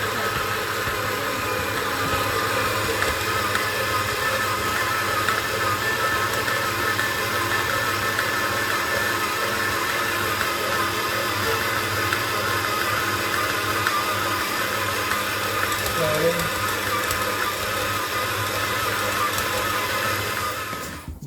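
A stand mixer kneads bread dough before the butter goes in, giving a steady, loud, continuous motor hum that holds unchanged throughout.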